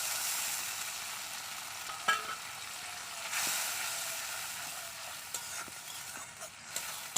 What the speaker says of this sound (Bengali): এই মশলাটা ভালো করে কষে নেব